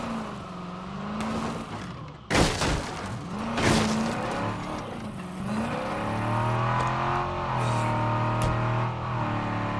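A damaged car in State of Decay 2 drives continuously with a near engine hum, revving up and easing off, and a couple of sharp knocks and bangs early on.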